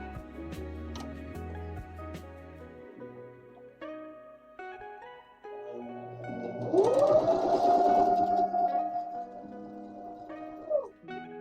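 A sewing machine works on quilt squares, its motor rising into a steady, fairly loud whir that holds for several seconds before stopping, with softer tapping and clicking mechanism sounds before it.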